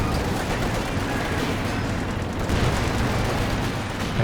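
Anti-tank gun rounds slamming into a Panther tank amid dense battle noise in Company of Heroes 2, loud continuous rumble of gunfire and explosions with no clear separate shots.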